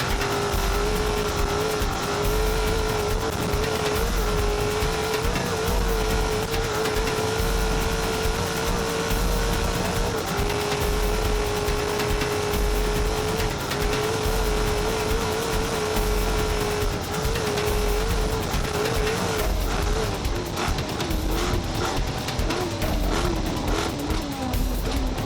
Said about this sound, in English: Greg Gartner was taking no prisoners, going toe-to-toe with the Finke and showing his Ford F-150 truck absolutely no mercy.